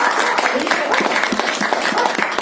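An audience at a home-earning seminar gives loud, sustained applause, with many hands clapping in a quick, busy patter close by.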